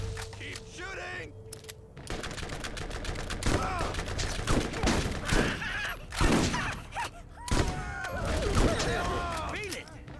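Gunfire in Borderlands: dense, rapid volleys of shots with clattering impacts throughout, loud and close, mixed with game effects and occasional voice.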